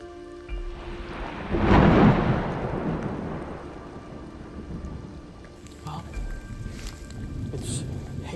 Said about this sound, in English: It's hailing, and there's a huge thunderstorm coming in